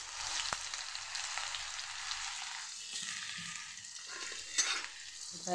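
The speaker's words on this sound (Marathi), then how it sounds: "छान गोल्डन कलर येईपर्यंत त्याला छान असं परतून घेऊ लसणाला." Garlic and cumin paste stir-fried in hot oil in a pan, a continuous close sizzle with scraping spatula strokes and occasional louder stirring clatter.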